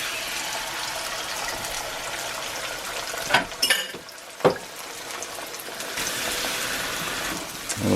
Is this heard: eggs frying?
yes